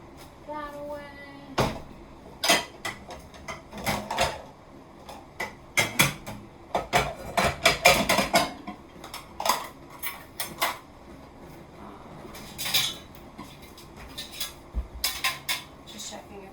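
Pans, bowls and kitchenware are handled while cooking fried rice and chicken, giving a string of sharp metallic clanks and clatters, some clustered in quick bursts and others spaced apart, close by and fairly loud, with brief quiet gaps between them.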